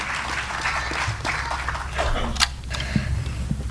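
An audience claps for a singer at a tribute concert of old Hindi film songs. The applause is a steady, fairly loud wash with a few sharper claps standing out, and no voices over it.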